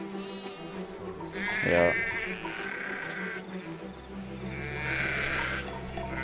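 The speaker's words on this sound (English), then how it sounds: "Moving with the sheep." Sheep bleat in the Valiant Hearts video game, with a clear harmonic bleat around two seconds in and another sustained one near five seconds, set over steady game ambience and low music.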